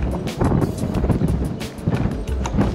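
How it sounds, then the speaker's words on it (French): Steady gusty wind buffeting close to the microphone, a rough low rumble with brief surges, no voices. "toujours du vent, il n'y a rien à faire"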